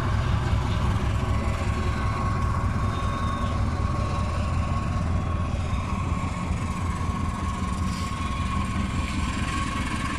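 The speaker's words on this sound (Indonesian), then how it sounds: "itu kereta Argonya juga sudah berangkat ya" The Argo Gajayana passenger train departs from a station, giving a steady, continuous low rumble of engine and rolling rail cars at moderate volume, with no voices heard.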